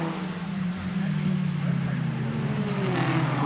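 Formula Ford 1600 race cars circa 1991 howl past at the Sandown circuit in Australia, a loud rising and shifting engine whine with a steady tonal drone that swells toward the end.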